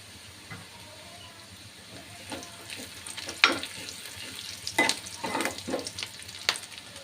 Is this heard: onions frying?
yes